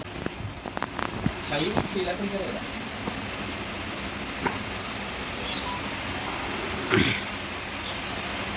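Heavy rain and wind pour down around an outdoor chicken grill, a dense, steady patter and rush with scattered sharper drops. Faint voices sit beneath.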